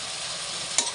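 Chicken being stirred in a hot pan for a pressure-cooker chicken curry, with a steady bright sizzle and one short, louder scrape of the spoon near the end.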